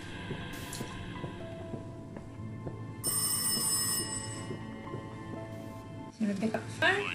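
An in-game telephone bell rings in the horror game Rise of Insanity, its bright metallic burst rising over a dense, murky ambient drone, with a scuffle of movement near the end.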